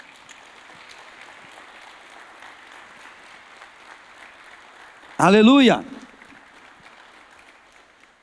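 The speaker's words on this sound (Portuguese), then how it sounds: "Salva de palmas para Jesus." Steady crowd applause runs throughout a Sunday church service, with a loud voice briefly shouting over it partway through before the clapping continues.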